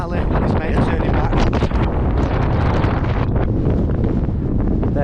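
Strong gale-force wind buffets the microphone high on Snowdon along the Pyg Track, a loud continuous roar and rumble filling the whole clip with no letup.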